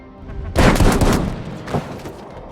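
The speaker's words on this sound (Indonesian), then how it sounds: "tentu mereka menolak dan langsung menembak Alexei" Gunfire in an action film: a loud close burst of rapid shots lasting about a second, followed by a second shorter blast that trails off into echo.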